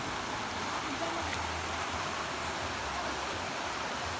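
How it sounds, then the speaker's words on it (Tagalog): River flowing beneath a bridge at a countryside resort, a steady broadband rush of water with a low hum underneath, continuous and moderately distant. "May ilog."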